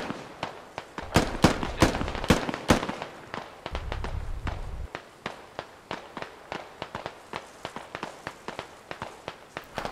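Gunfire in the military shooter Squad, a rapid mix of close and distant rifle shots cracking in uneven bursts, with a brief low vehicle rumble partway through.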